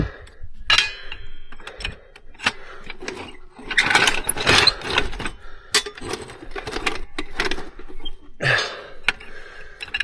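A ratchet tightening a bolt on a sheep stock box, repeated bursts of loud metallic clicking from close by, mixed with clanks from the metal frame and no talking.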